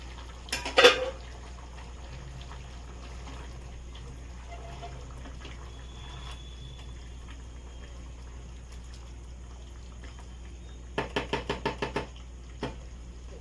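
A cooking-pot lid is lifted off a pot of chicken maharani with a sharp metallic clank near the start, followed by a quiet stretch and then a quick burst of rattling clinks.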